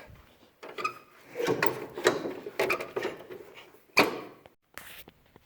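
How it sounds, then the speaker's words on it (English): The doors of a Massey Ferguson windrower are worked open with a series of close mechanical clunks, latch clicks and rattles in irregular bursts separated by short pauses. "Go ahead and get our doors opened up."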